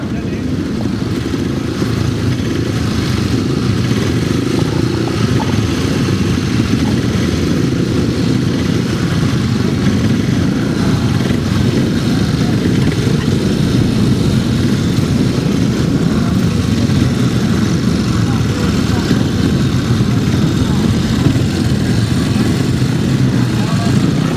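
Grasstrack racing motorcycles revving at the start line, a loud continuous engine roar from several bikes close by, with an announcer talking over it.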